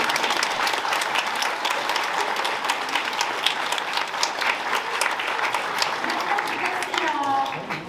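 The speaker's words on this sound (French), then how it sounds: "Oui, on peut les applaudir, c'est ce que je voulais dire." An audience at a mayor's New Year's greetings ceremony gives sustained, even applause with many hands clapping together, then tapers off as a voice begins speaking at the very end.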